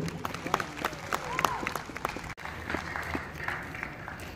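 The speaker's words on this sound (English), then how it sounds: "Nice round of applause for Adam Kramer, Sean Dixon, and Andrew Rope" Light, scattered audience applause at a Scottish festival drum major competition, fairly faint outdoor clapping with crowd murmur and a voice or two mixed in.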